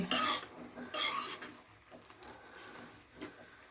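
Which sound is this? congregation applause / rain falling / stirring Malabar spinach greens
stirring Malabar spinach greens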